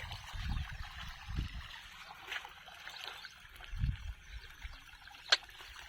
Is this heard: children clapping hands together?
no